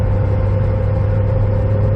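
A 2005 Chevy Corvette cruising at 70 mph in sixth gear gives a loud, steady, low engine drone with constant road rumble, unchanging and heard from inside the car.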